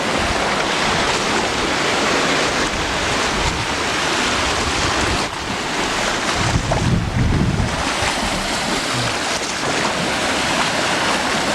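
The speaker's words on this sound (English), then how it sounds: "We'll get a good shot of the south wind coming in." Strong south wind roaring steadily over a flooded lake, a dense rushing noise with gusty swells throughout, mixed with waves washing close by and wind buffeting the microphone.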